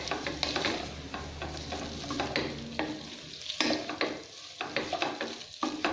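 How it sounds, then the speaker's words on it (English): Spaghetti being tossed with cooked meat and its oil in a pan, soft sizzling under repeated scraping and clattering stirring strokes, close and steady, no talk. "And mix your spaghetti"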